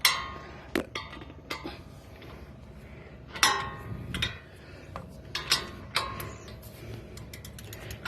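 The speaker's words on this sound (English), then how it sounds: "Push it down, and you hear that clicking noise." A torque wrench clicks as it reaches setting on Toyota Tacoma TRD wheel bolts during rotor installation, with a series of sharp, close metallic clicks spaced irregularly over a quiet background.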